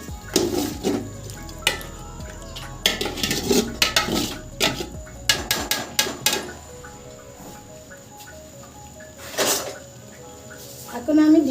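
Duck meat being stirred with spices in a pot for a Bengali duck curry, with repeated clinks and scrapes of a utensil against the metal and a light background sizzle, a voice talking over parts of it.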